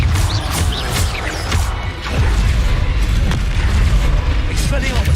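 A Confringo blasting spell exploding in Hogwarts Legacy, loud booming blasts and crashes rolling through the whole moment, with a voice speaking over the noise.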